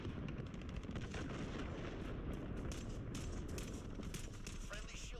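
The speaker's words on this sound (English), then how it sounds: "cruise missile launched" A cruise missile strike in the Modern Warfare video game, heard as a dense, continuous roar of explosions and rumbling blasts with sharp crackling bursts, loud and sustained throughout with talk partly audible underneath.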